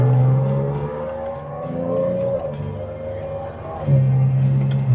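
Audi S4 with a supercharger and a new cold air intake, its engine note rising and falling through revs, with a steady harmonic whine layered over the exhaust drone for about five seconds.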